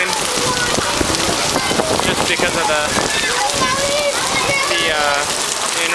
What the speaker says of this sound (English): This is one of the biggest rains I've ever seen.